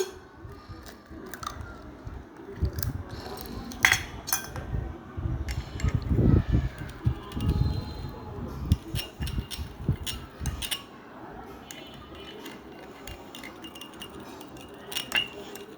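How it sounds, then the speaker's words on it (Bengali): Egg is beaten with a spoon in a bowl, giving a long run of quick, close clinks and taps against the bowl's side in uneven bursts. "চামচ দিয়ে নেড়ে নিলে ভালো হয় এই জন্য আমি চামচ দিয়ে নেড়ে নিচ্ছি ডিমটা"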